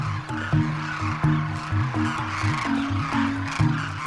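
Large flock of cranes calling at a desert village feeding site in India, repeated honking, trumpeting calls overlapping in a steady chorus, close and loud with no talk.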